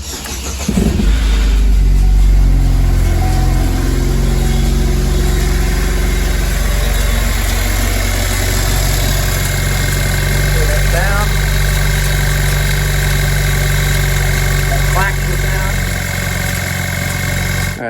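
Car engine cranks and starts, then idles steadily with a faint recurring rattle suspected to come from a worn timing chain, close and loud, with a voice speaking over it.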